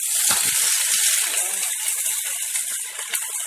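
Chopped onions frying in oil in a pan for bhindi masala, giving a steady, close hiss and sizzle with a few faint clicks and clatters and no talking.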